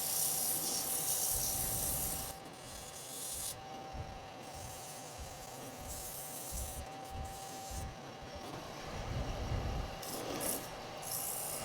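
Sandpaper rubs against a turned wooden kaleidoscope spinning on a lathe, a continuous close scratchy hiss with a steady motor hum underneath and slight swells in intensity as the grits are worked through.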